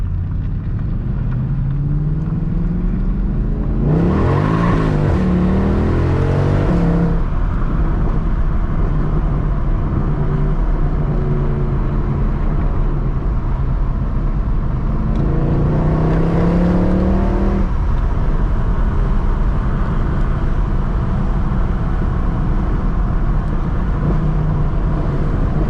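A 2013 Mercedes C63 AMG engine revs hard through paddle-shifted gears, loud and close, with two rising acceleration pulls and quick shift breaks over a constant deep rumble.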